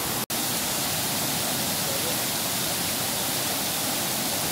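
Waterfall at Colombian hot springs pouring down hard under strong pressure, making a loud, constant broadband roar of rushing water with one brief dropout near the start.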